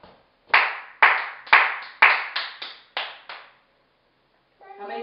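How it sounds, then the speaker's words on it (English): A parent claps hands in a counting game with a child, about seven sharp claps in an uneven, slightly speeding rhythm, close and loud, then a pause before a faint voice begins. "Listen to my claps."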